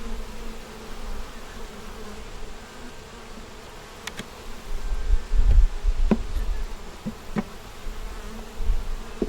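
Honeybees buzz steadily around a hive feeder, a continuous close insect drone with a few louder passes near the mic and occasional low handling thumps; no talk.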